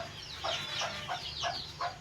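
Several hens cluck close by in a coop, some sitting to lay eggs, in short, repeated bursts, their calls rising and falling irregularly over a quiet background.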